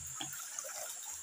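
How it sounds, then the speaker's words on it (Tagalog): Mountain water trickles and flows down by a river in Carigara, Leyte, a faint, steady splashing stream with no voices over it. "Tumutulo yung tubig."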